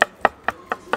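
Knife chopping tongue and cheek meat on a board at a 130-year-old Istanbul söğüş street stall, five sharp, evenly spaced chops about a quarter second apart, close and fairly loud.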